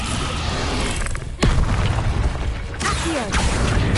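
The Descendo spell in Hogwarts Legacy lands with a heavy boom and crashing impact over a dense, loud magical rumble, followed by further thuds and a brief rising whoosh.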